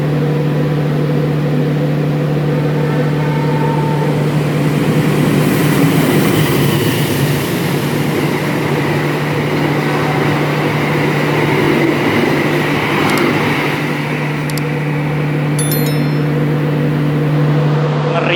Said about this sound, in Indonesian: Itu kereta api Turanggaya benar-benar ngebut banget melintas di stasiun Wates